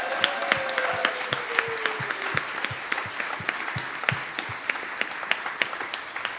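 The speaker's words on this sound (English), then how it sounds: "if you would please give these people a round of applause" A roomful of people at a service applauds steadily, dense even clapping with a few louder nearby claps standing out across the whole stretch and no talking.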